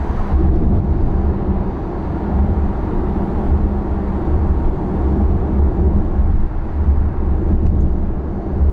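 Cabin noise inside a 2025 Volkswagen ID.5 electric SUV driving at 80 km/h, heard as a steady, loud low rumble of road and wind noise with the windows closed and no talk.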